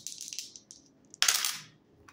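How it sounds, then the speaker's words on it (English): Dice rolled during a tarot card reading, giving a short bright rattle and clatter near the microphone, preceded by lighter tapping sounds. "rolling the dice to see what I need to shuffle the deck to."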